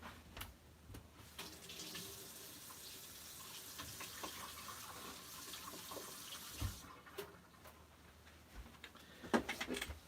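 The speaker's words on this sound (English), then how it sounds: "let me rinse this here out." Water runs from a tap as something is rinsed out at a sink while mixing ice-dye colours, a steady close hiss of flowing water with a brief clunk near the middle.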